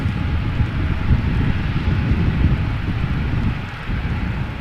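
Embraer 175 jet at Amsterdam Schiphol, heard as a low, rumbling engine roar with wind buffeting the microphone, steady and fairly close, easing slightly near the end.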